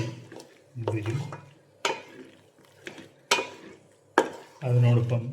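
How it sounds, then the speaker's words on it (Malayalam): A spoon stirs pasta through melting cheese and butter in a pan, giving scraping clinks and sloshing strokes in separate bursts, with a voice briefly heard between them. "ഇനി ഈ ചീസും ഈ ബട്ടറും ഒന്ന് മെൽറ്റായിട്ട് വരണം. നന്നായി ഇളക്കുക."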